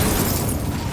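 A fire spell cast in Hogwarts Legacy combat, a brief, loud whooshing burst of flame with a rough roar that stays steady and close for its short length.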